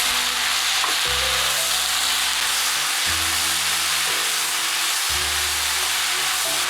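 Chicken, mushrooms and vegetables stir-frying with soy and oyster sauce give a steady close sizzle and hiss, with a few louder surges of frying and stirring at intervals.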